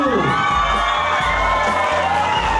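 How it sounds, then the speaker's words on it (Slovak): Children at a school Children's Day event cheer, shout and whoop as a loud, dense crowd, sustained and close throughout with no pauses. "Veľký potlesk!"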